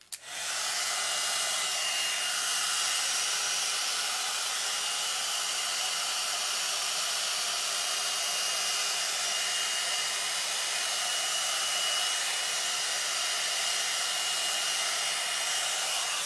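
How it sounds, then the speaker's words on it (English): A blowout dryer brush runs continuously at a steady, close, loud whooshing hum for the whole stretch, switching on abruptly at the start, with no talking. "This is a blowout dryer brush."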